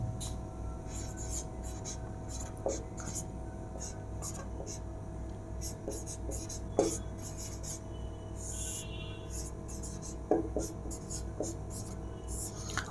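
Chalk or marker writing on a board during a Hindi grammar lesson, soft scratchy strokes with a few sharper taps, steady and faint under room noise.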